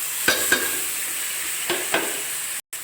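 Cleaned dried shrimp (kooni karuvadu) fry in a pan, a steady soft sizzle broken by a few sharp scrapes of stirring, close and fairly loud, with no talk.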